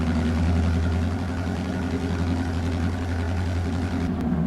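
Tractor engine idling in Farming Simulator 22, a steady low rumbling drone running throughout with no talk.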